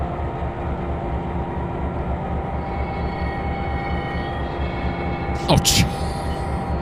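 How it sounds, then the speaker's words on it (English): A diesel locomotive engine throttled up to notch 5 in Trainz 2022 drones with a steady low rumble and hum, with a short brief hiss burst near the end and a voice briefly exclaiming. "I'm putting the engine through its paces while at the same time grinding the gears off all of my"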